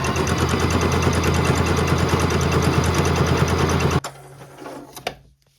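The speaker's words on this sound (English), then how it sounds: "turn it to a zigzag stitch, and we want a really close stitch length" A sewing machine running a close zigzag stitch along a raw fabric edge, a loud fast rattling whir for about four seconds that stops abruptly, followed by a few faint clicks.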